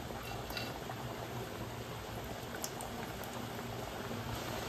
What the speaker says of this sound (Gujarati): આપણે અહીંયા પેનમાં તેલ મૂકી દીધું છે. હવે આપણે તેલ ગરમ પણ થઈ ગયું છે